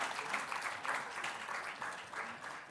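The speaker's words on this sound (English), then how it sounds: "Round of applause and gents" Steady audience applause at an annual conference, dense and continuous clapping filling the whole stretch at moderate level, with a voice faintly audible underneath.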